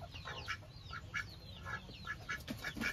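Ducks quack in short repeated bursts near a poultry shed on a small rural farm, a steady run of calls about twice a second with no talk.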